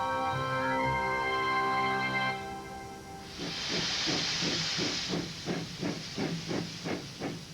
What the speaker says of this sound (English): he puffs out a cloud of steam